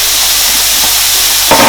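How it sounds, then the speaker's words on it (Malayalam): Finely chopped onions fry with a pinch of salt in a pan for tandoori chicken gravy, a loud, dense, continuous sizzle heard close up with no voices. "രണ്ട് ഓണിയൻ ചെറുതായിട്ട് അരിഞ്ഞത് നമുക്ക് ചേർത്ത് കൊടുക്കാം."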